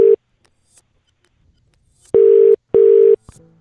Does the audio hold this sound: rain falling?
no